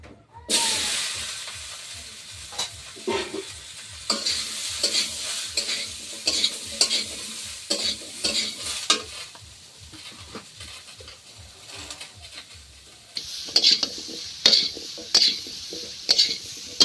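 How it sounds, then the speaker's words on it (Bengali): Giant taro pieces fry in oil with a steady sizzle while a utensil scrapes and stirs in a regular rhythm, with occasional clinks of metal against the pot. "এবার ভেবিয়ে রেখেছিলাম যে কচুটা, সেটা তেলে দিয়ে দেবো"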